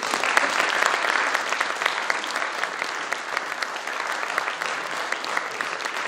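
Dense, sustained applause from a concert audience at a Małopolska regional folk festival laureates' event fills the room, loud and steady with thick overlapping claps and no speech.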